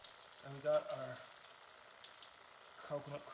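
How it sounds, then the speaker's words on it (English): Coconut cream bubbling in a hot pan with chicken stock added, soft crackling and sizzling at low level, with brief voice-like tones heard twice. "coconut cream sizzling away"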